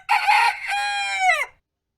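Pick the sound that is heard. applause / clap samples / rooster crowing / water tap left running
rooster crowing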